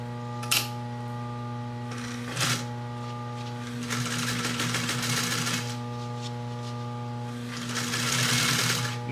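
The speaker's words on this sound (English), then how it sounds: "Now that you got the boxing sewn together, you can just continue sewing down this" A sewing machine stitches cushion boxing with a steady, close motor whir and a rapid needle rattle, interrupted by a couple of brief pauses and clunks as the fabric is adjusted.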